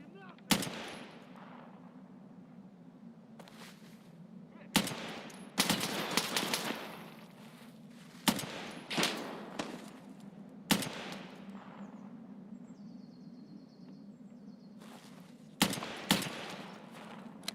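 Gunfire in the video game Escape From Tarkov: several loud bursts of rapid shots spaced a few seconds apart over a steady low hum, with short single cracks between volleys.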